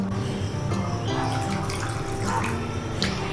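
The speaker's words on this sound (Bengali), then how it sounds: "সেই আমের টুকরোগুলো মিক্সির মধ্যে দিয়ে দিচ্ছি, আর দিয়ে দিচ্ছি সামান্য পরিমাণ জল।" Water poured from above into a mixer jar holding ripe mango pieces, a short steady trickling splash with a few bright drips, close and alone.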